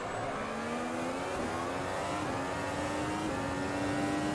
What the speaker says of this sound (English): listen to the engine, because the RPMs are going to tell you what the tires are doing